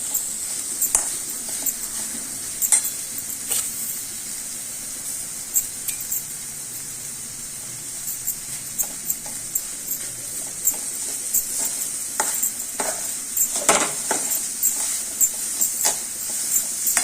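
Milk and sugar being stirred in a metal kadhai for basundi give a steady simmering hiss, with scattered clinks and scrapes of the spoon against the pan at irregular intervals.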